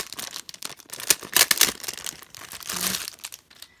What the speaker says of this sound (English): I'm going to open up my double-sided tape